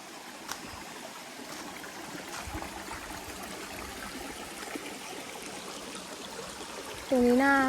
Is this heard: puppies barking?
no